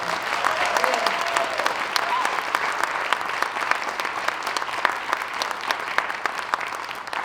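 Audience applause fills a school auditorium at a high school winter instrumental concert, steady dense clapping from a large crowd that holds at an even level throughout with no voices standing out.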